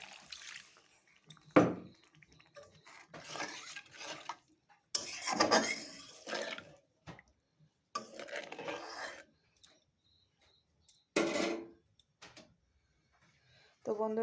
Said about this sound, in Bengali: এখন দিয়ে দেবো আমি অল্প জল এই মশলার বাটি ধুয়ে।